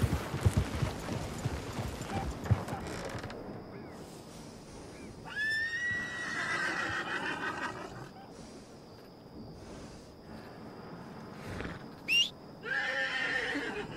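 A horse in the Red Dead Redemption 2 video game gives several loud, drawn-out whinnies and snorts, with hoof clip-clops and faint game ambience between them, heard alone without talk.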